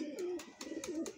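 Many running-pair pigeons in a home loft coo together in a dense, rolling low murmur, with soft flutters and rustles between the calls.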